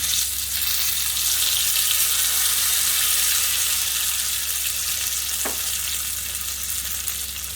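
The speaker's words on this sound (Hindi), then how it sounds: "जरा सी लाल मिर्ची डाल के मैं ये तड़का डालूँ।" Hot oil tempering with red chilli, poured into kala chana kadhi, sizzles loudly and steadily, a continuous bright crackling hiss that barely changes from start to finish.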